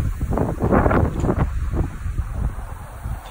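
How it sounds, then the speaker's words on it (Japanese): Strong typhoon wind gusts buffet the microphone in a rural area of Gifu with rice fields nearby, a loud, roaring rumble that swells and eases over a few seconds. "ちょっとだいぶ風が強くなってきて"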